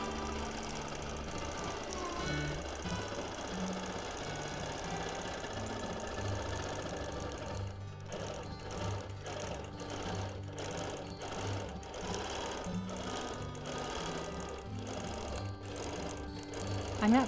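A sewing machine quilts detail into a quilt, its motor running as a steady mid-pitched hum, then stitching in rapid rhythmic bursts of needle chatter, close and continuous.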